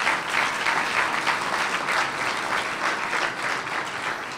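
Steady, dense audience applause fills a golf hall of fame banquet, loud and continuous throughout with no voices over it.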